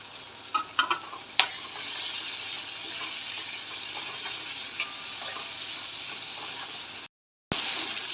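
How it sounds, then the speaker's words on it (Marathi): Chopped tomato hits hot masala spiced with cumin powder and garam masala in a pan, giving a steady broadband sizzle with a few sharp clatters of stirring early on and a brief dropout near the end. "एक टमॅटो मी बारीक चिरून घेतलेला होता तो टमॅटो टाकून देऊ"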